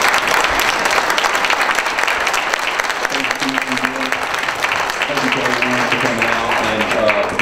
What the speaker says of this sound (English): Let's give the candidates a round of applause again.